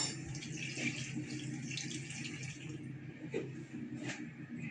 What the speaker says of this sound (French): Et on met 150 g d'eau.